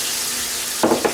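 Breaded zucchini frying in a pan of oil at medium heat, a steady close broadband sizzle with a couple of brief louder crackling bursts near the end, no talking.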